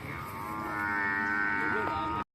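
A Murrah buffalo calf at a livestock market lets out one long, drawn-out bellowing moo, close by, before the sound cuts off abruptly.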